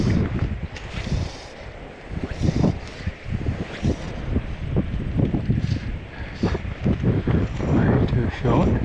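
Steady gusts of wind buffet the microphone while someone fly fishes for trout in clear shallow water, a continuous rumbling roar that rises and falls throughout, with a few faint voices.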